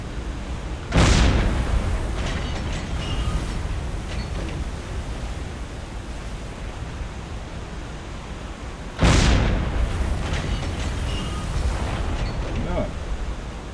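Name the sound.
explosions in Silent Hunter 3 submarine video game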